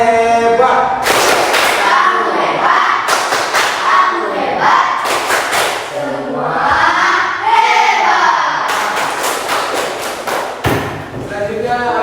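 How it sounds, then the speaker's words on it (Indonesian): A class of children standing and doing a rhythmic 'tepuk hebat' clap in a classroom, sharp loud claps in patterned bursts among voices chanting and shouting together. "Tepuk hebat."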